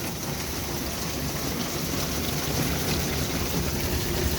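Rain falling on old tin window covers during a thunderstorm: a dense, steady hiss of drops pattering on metal, close and continuous, with a low rumble underneath.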